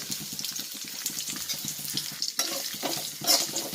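Ground chili and coriander powders fry in oil for a stingray fish theeyal. A close sizzle is broken up by rapid stirring and scraping in the pan.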